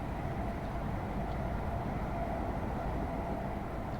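Class 350 electric multiple unit running in Train Sim World 2020, a steady loud rumble of wheels and motor with no breaks or gaps, no voices over it.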